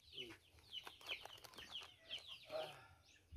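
Pet chickens clucking near a house while a protective net is being put up, with repeated close, fairly loud clucks and short calls over a busy background.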